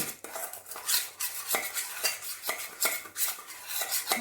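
Spoon clinking and scraping against a bowl while soy sauce seasoning is stirred for steamed dim sum ribs, a steady run of close metallic taps and scrapes with no talking.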